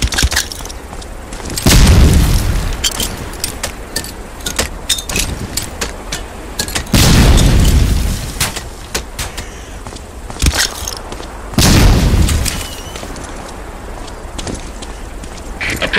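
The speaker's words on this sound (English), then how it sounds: "Throw a grenade into each of the concrete boxes." Grenade blasts in the World War II shooter Medal of Honor: Allied Assault, three heavy, booming explosions spaced a few seconds apart over a backdrop of gunfire cracks and clatter.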